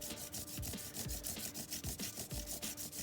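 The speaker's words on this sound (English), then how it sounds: "This is a regular old Crayola crayon, and of course if we rub over it, we will get" A regular Crayola crayon is rubbed back and forth across a texture plate, giving a steady, rhythmic dry scraping of about a dozen close strokes with no talking.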